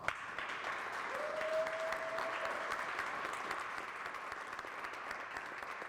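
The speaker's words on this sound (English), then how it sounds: "Let's give these fabulous players a round of applause." Audience applause for under-60 male and female individual poomsae competitors at a taekwondo Grand Slam event, a steady, distant wash of clapping throughout with a faint tone briefly in the background.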